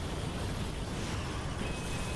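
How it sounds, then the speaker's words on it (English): A loud, sustained explosion effect from the action RPG Chronicon, a warlock's blast filling the whole clip as a dense, continuous roar with no gaps and no voices. "so that is the explosion"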